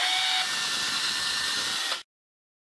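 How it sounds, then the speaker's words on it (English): A power drill with a 7/32 bit bores a pilot hole through roofing, a steady loud whine lasting about two seconds, then abruptly stopping into silence. "we then use the 7/32 drill bit to drill our pilot hole"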